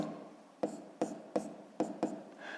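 Pen strokes on paper marking an asterisk by hand, five short scratchy lines in quick succession, close and quiet, with no voices.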